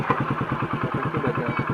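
A village motorcycle's engine chugs in a fast, rhythmic run of close mechanical pulses as it struggles to start, loud and unbroken for under two seconds.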